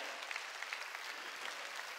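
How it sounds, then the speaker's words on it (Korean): Dense, steady applause from a congregation fills a Wednesday worship service at a Jesus-centered church, with loud, continuous clapping and no pauses throughout. "박수 쳐라"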